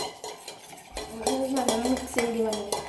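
A spoon stirring a sherbet mixture in a bowl, heard as a run of close, ringing metallic clinks and scrapes in quick irregular bursts, with no talk over it.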